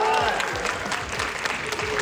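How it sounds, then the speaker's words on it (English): An audience at a film presentation breaks into sustained applause, a dense wash of clapping heard under a speaking voice. "Huge round of applause, please, everyone."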